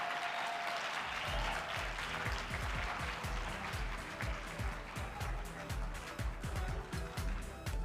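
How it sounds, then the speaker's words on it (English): A conference audience at the Enactus South Africa national exposition breaks into sustained applause, a dense, steady clapping that fills the room, with some crowd noise mixed in. "Another big round of applause, ladies and gentlemen"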